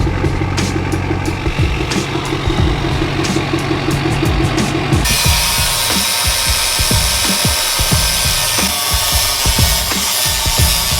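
A power tool cuts into the metal bumper of an F-250 truck, a loud, harsh grinding whine that changes to a rougher, scraping roar midway, continuous and close.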